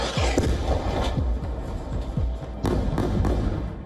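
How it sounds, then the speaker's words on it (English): A rapid series of booming, thudding blasts rolls on continuously, loud and close, with dense crackling debris between the impacts. "Then another explosion."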